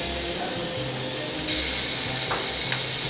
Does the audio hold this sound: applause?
no